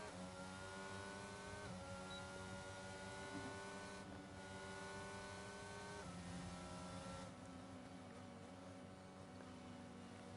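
Race car engines in an F1 video game at the Miami circuit, a sustained high-pitched whine with steady harmonics and shifts in pitch as the car runs, continuous and fairly loud throughout, with no talking.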